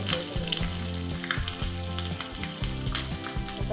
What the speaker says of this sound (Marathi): पॅन गरम केलं होतं त्याच्यामध्ये तेल टाकून घेतलं त्याच्यामध्ये मोहरी टाकायची मोहरी टाकून घ्यायची